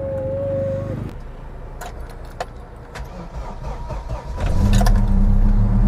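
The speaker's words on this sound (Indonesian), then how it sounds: "Kita akan start engine." An army-style Opel Blazer is started with a turn of the key: a brief crank, then the engine catches and runs, the idle swelling to a louder, steady rumble toward the end, with a few keys jingling and no talk.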